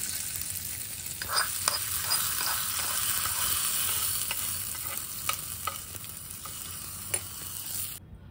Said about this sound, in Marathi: ही आपली जी चुरचुरीत फोडणी आहे छान झालेली आहे, ही या चटणीवर टाकतेय मी